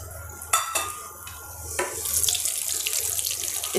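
Black cardamom, cinnamon and cumin hit hot oil in a kadhai for a restaurant-style kadai mushroom dish, giving a steady rushing sizzle that swells after a couple of sharp clinks and stirring sounds, close and fairly loud, with no talking.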